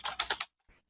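Brief quick clatter of a few keystrokes on a computer keyboard, close and clear, followed by a faint final tap.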